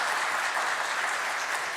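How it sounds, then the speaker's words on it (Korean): A church congregation claps in welcome for a newly arrived minister during a Sunday worship service, a dense, even roar of applause sustained throughout the moment. "여러분 박수로 환영해 주시기를 바랍니다."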